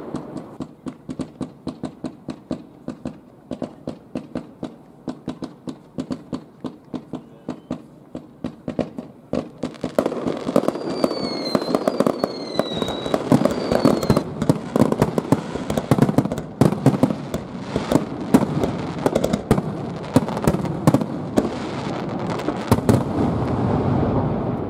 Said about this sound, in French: ouvre les hostilités avec un feu d'artifice tiré depuis la mer